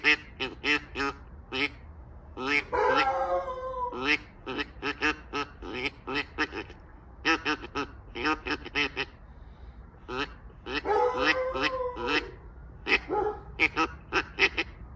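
A hunter blows a duck call to mimic ducks sitting on the water. It gives a long run of loud, close, nasal quacks in quick staccato bursts, with a few drawn-out rasping calls and no talking.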